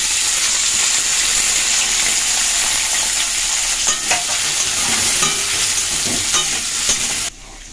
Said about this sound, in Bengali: তেলটা গরম হয়ে গেছে সবজিগুলো একসঙ্গেই সব ভেজে নেব